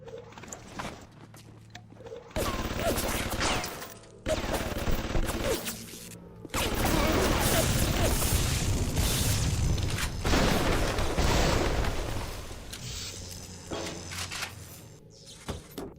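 Bursts of turret gunfire in the Bioshock video game, loud rapid volleys that come and go over about sixteen seconds, mixed with booms and mechanical clatter.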